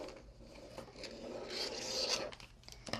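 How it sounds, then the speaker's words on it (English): Material being cut while making an oversized canvas guestbook, a soft continuous scraping and rustling with faint taps, close and quiet, with no talking. "I'm just going to cut this like here."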